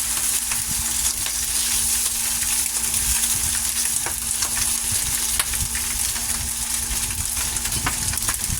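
Bacon sizzling in a pan, a loud, dense and continuous crackling hiss heard up close with no voices over it.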